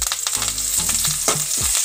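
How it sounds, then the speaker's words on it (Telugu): Curry leaves dropped into about two spoons of hot oil for tempering horse gram rasam, hissing in a loud, close, continuous sizzle with low hum-like tones underneath, brief and without any talk. "ముందుగా కరేపాకు వేసుకుందాము"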